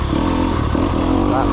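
A 2020 Sherco 300 SEF Factory motorcycle engine runs steadily up close, a loud, continuous mid-pitched drone with a clattery edge and no clear revving.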